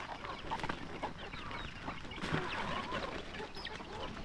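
Native chickens on a small mini farm cluck and call repeatedly, several birds overlapping at moderate distance with scattered short clucks and squawks over outdoor background.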